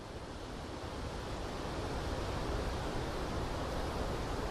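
Strong wind gusting to about 30 miles an hour in a vineyard roars steadily as a broad, rushing wash of noise, buffeting the microphone without pause.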